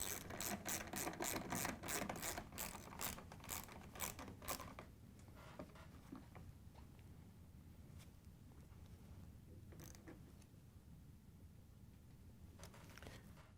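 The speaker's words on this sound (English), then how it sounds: "then we can go around and tighten them all down" Close ratcheting clicks come from tightening screws on a Whirlpool/KitchenAid/Maytag appliance top hinge, first as a fast regular burst, then fading into quieter, sparse turns and small handling sounds.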